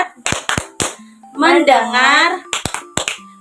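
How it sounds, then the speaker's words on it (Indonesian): Students in a classroom do a tepuk fokus ice-breaker routine, with crisp group claps in short clusters around a sustained chanted word and loud, close voices throughout. "ice breakingnya itu tepuk fokus sebelum ke materi selanjutnya"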